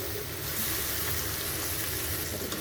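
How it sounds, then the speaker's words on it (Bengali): Ginger and garlic sizzle in hot oil in a pan while green chilies are added, a steady close crackling hiss that runs unbroken throughout. "আদা রসুনটা একটু ভাজা হয়ে গেলে এখানে আমরা কিছু কাঁচামরিচ দিয়ে দেবো"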